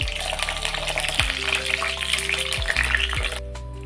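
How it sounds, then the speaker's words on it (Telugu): Whole eggplants fry in hot oil, dropped in one at a time, with a loud, steady sizzle and crackle throughout and a few low bumps as pieces go in. "ఇలా వంకాయలను ఒక్కొక్కటి ఇందులో వేసుకొని వేయించుకోవాలి."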